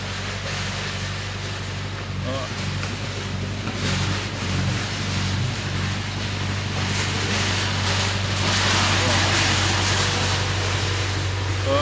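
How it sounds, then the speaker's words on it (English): A tractor fitted with a tree-cutting mower drives along a small lane beside a fishing lake, a steady loud engine drone and mechanical racket lasting throughout, swelling slightly toward the end amid outdoor wind. "there's like a tractor going down the little lane."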